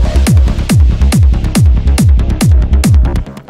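Punchy electronic kick drum in a trance track thumping steadily at a driving dance tempo, about eight hits, with bright synth texture layered over each beat.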